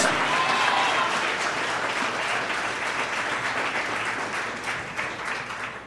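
Sustained applause from a church congregation at a Spanish-language Easter service, a dense wash of many hands clapping at steady loudness that tapers slightly toward the end.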